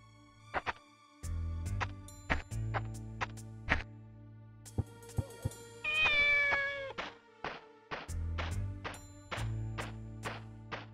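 Repeated meows from a cat in the video game Shenmue, a series of short, clear calls spread through the stretch with steady background game music and one longer, drawn-out meow near the middle.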